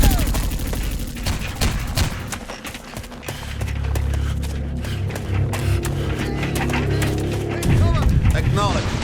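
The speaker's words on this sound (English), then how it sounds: "Watch out! Heavy machine gun." Heavy machine gun fire in the shooter game Bet On Soldier, dense rapid bursts layered with other combat noise and loud game voice callouts over a continuous battlefield din.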